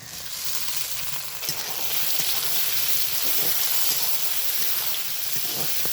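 Garlic and onion sizzle steadily in a hot pan as chopped tomato joins them for an egg pulao, a continuous bright frying hiss with soft stirring scrapes, close and fairly loud, no talking.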